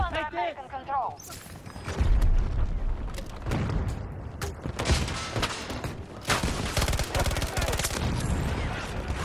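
Sustained gunfire and booming blasts from a Battlefield 2042 match, dense and loud with bursts running through nearly the whole stretch, while a player talks over the combat.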